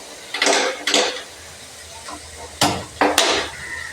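Cooked pumpkin and beans go into a cooking pot. Five sharp metallic clanks of a spoon against the pot come in two pairs and then a final hit, close and loud, with quiet gaps between them.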